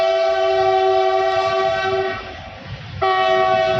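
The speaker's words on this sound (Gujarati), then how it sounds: "અહીંથી ટ્રેન આવશે અહીંથી નજીક જ છે પાટો" A train passes close by, its horn blaring in a long sustained tone that breaks off briefly and then resumes, over rumbling wheels.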